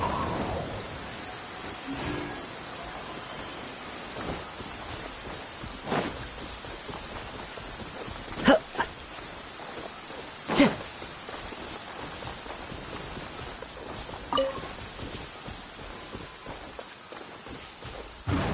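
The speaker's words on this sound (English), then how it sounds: "Taking a stroll in the middle of a downpour certainly rouses the spirit." Steady heavy rain falls throughout a downpour in Genshin Impact, with soft rumbles of thunder and occasional sharp cracks or taps rising above the constant hiss.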